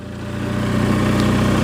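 Engine of a Bolens lawn tractor without power steering runs steadily, a loud close droning hum that swells slightly as it revs, with no talking.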